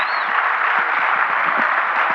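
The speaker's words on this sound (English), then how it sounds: "Let's give Denise a big round of applause." An audience applauding for Denise at a gathering, dense, steady clapping from a room of people that holds evenly for the whole stretch.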